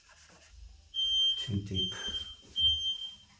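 A kitchen smoke alarm set off by burned sausages gives a steady high-pitched electronic beep that sounds on and off through the clip, with a person talking over it.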